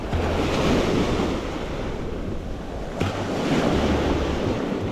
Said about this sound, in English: The surf is louder here than I remember too.